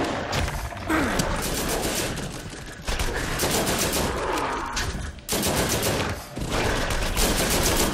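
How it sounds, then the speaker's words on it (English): Dense, loud gunfire from Borderlands, a sci-fi shooter game, rattles in sustained bursts for about eight seconds, with brief pauses between volleys and a wide, crashing texture. "Lots of shots."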